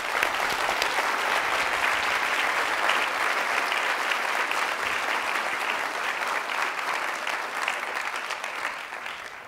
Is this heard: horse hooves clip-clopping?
no